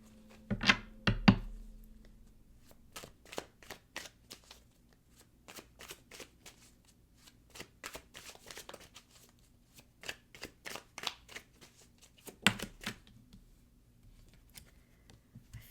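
Tarot cards shuffled by hand up close: two sharp riffles at the start, then a long run of quick, crisp flicks and taps in uneven bursts, with another heavier riffle near the end and no talking.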